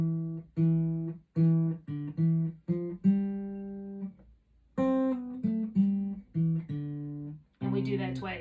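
A guitar picks out a simple Irish jig scale as single plucked notes in an even, unhurried rhythm with brief pauses, close and clear, ending with a short spoken phrase.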